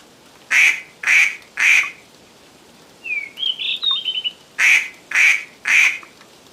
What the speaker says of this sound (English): Duck. Quack, quack.